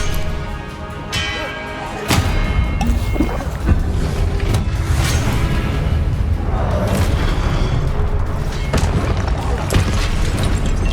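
Confringo blasting spell explosions in Hogwarts Legacy, loud booming blasts and rumbling impacts layered over continuous low roar, with several distinct sharp bursts across the stretch.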